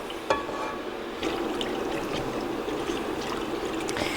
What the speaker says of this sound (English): Now I have to whisk this. Whisk it, whisk it, whisk it.